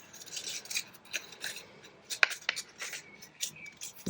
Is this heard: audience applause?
no